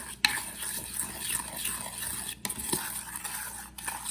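A spoon scrapes and clinks around a bowl while mixing a sauce for char siu pork, a steady quiet stirring broken by a few sharper taps, with no talking.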